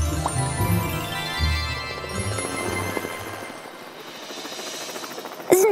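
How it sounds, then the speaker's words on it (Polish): A cartoon character transforms into a helicopter in a children's animated show, heard as a whirring, rhythmic rotor-like effect layered over music, fading and ending with a sharp burst. "Zamień się szybko w helikopterek."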